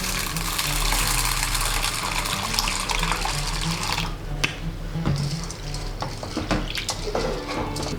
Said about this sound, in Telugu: ఈ పప్పును నేను ఒక 2 టైమ్స్ శుభ్రంగా క్లీన్ చేసుకొని ఇప్పుడు మళ్ళీ పప్పు మొత్తం మునిగే వరకు వాటర్ పోసుకొని